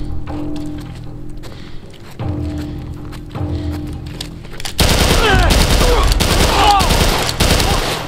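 Rapid assault rifle fire in The Last of Us Part 1 erupts midway into a dense, continuous automatic burst, loud and close, after quieter in-game ambience with scattered shots.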